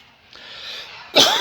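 A single sharp cough bursts out close by near the end, preceded by a brief rising breath, with no talking.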